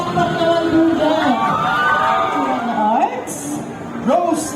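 A crowd claps and cheers at a float parade competition during the Pistay Dayat 2023 festival, a steady wash of applause and shouts running beneath a loud announcer's voice, with a few whoops rising near the end.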